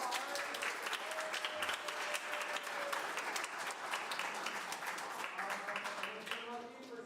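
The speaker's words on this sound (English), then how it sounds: "another round of applause" An audience applauds at a charity sing-a-thon, with dense, sustained clapping that holds evenly throughout, mixed with faint crowd murmur and tonal hints of music or voices beneath it.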